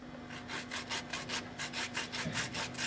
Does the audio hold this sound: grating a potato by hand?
yes